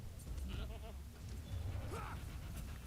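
A goat in a video game gives a couple of short wavering bleats, faint against a low rumbling background, with someone talking at moments.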